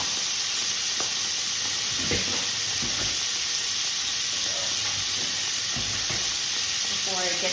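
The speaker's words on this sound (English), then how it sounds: "Now I'm actually throwing in, and this is about 8 ounces of pancetta." About 8 ounces of pancetta browning in a pan gives a loud, continuous close sizzle and hiss, with occasional stirring scrapes and clinks and brief speech.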